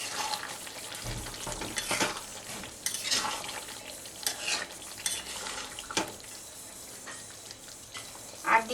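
Spiced jackfruit curry being stirred in a pan with shahi garam masala, giving a soft steady sizzle under repeated scraping strokes of a spoon against metal, close and moderately loud, with no voices.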